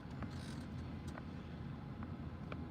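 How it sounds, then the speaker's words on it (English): A street sweeper runs across the street, giving a low, steady mechanical rumble at a distance with faint scraping and clicking over a continuous engine drone. "They're running a street sweeper over there across the street."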